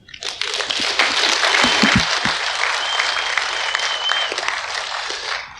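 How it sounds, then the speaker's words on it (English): A room of people at a sobriety legacy meeting breaks into loud, sustained applause, many hands clapping densely from just after the start and carrying on evenly until fading near the end. "Let's give these guys another round of applause real quickly."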